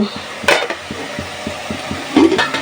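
Spice paste with green chillies and hilsa fish heads frying in a pan, heard as a soft steady sizzle broken by repeated light knocks of a spoon stirring against the pot, with a couple of louder scrapes.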